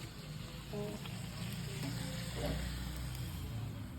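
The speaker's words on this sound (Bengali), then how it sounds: "এখানে ভাজা চলছে" Faint, continuous sizzle of pea-filled kachoris frying in a pan, with a low background rumble and occasional small clinks.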